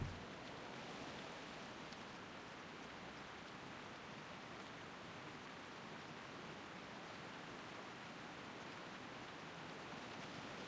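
Steady in-game rain in World of Warcraft: The Burning Crusade, a dense, even hiss of falling water that runs unbroken throughout, heard alone with no voices.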